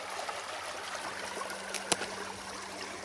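Water flowing freely through a channel after a beaver dam is removed by hand on a sunny day, a steady close gurgling stream with one brief sharp knock.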